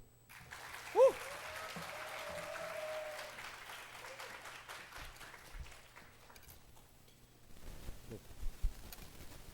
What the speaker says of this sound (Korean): 청년의 함성으로 존경과 사랑을 담아서 우리 박수로 모시도록 하겠습니다